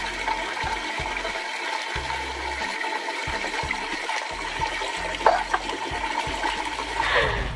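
Water gushes steadily from a tap in one continuous rush, with a brief splash and gurgle near the end.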